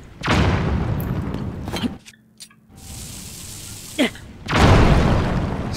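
Bomb blasts in Zelda: Tears of the Kingdom, heavy booming bursts with a broad rumbling tail, one at the start and another near the end, separated by quieter game ambience and a few small clicks.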